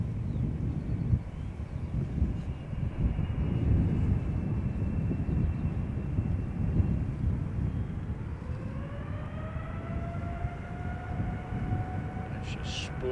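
A KLM Boeing 787-10 Dreamliner, registration PH-BKK, spools up its engines at Schiphol. A broad steady roar is joined partway through by rising whine tones that climb in pitch, while wind buffets the microphone.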